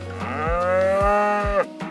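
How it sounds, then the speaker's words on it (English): A cow gives one long, loud, sustained moo, steady and close with a slight rise before it ends, over a faint background with repeating low thumps. "cow,"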